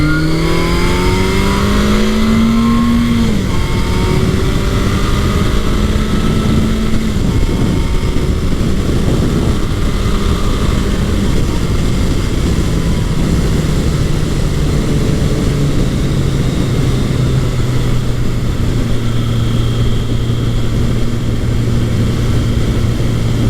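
A Kawasaki KZ1000 motorcycle engine pulls hard above 5,000 RPM, a loud, steady drone that holds throughout with rising and falling pitch sweeps as it accelerates, no voices.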